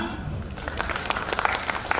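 A university audience claps at a Hindi audio drama performance, a modest patter of applause building slightly, somewhat distant, with a voice speaking over it.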